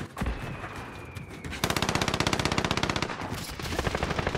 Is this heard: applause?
no